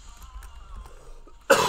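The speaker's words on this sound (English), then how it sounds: "I don't mean to cough in everybody's ear like that" After a quiet stretch of faint background hum, one sudden loud cough bursts close to the microphone at the very end, sharp and brief.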